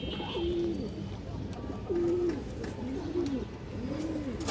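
Pigeons coo close by in soft, repeated calls at a steady pace, a few seconds apart, from a pen of fancy breeds kept for sale. Light background noise runs underneath and no one speaks.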